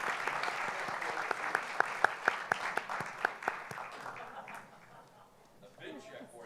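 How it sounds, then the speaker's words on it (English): At an education awards ceremony in San Diego, an audience breaks into applause with a few sharp, close claps standing out above the crowd. The clapping fades after about four seconds, and a voice follows in the quiet. "A round of applause."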